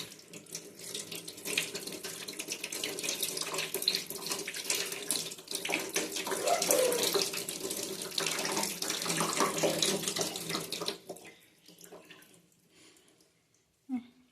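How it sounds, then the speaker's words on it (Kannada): Tap water runs steadily into a sink while flowers are washed, a continuous close splashing stream for about ten seconds before it stops and a soft knock follows. "ಹೂವು ತೊಳೆಯನ ಕೊಡು. ಫಸ್ಟು ತೊಳೆಯನ ಕೊಡು. ತೊಳೆದು ಕೊಡ್ತೀನಿ."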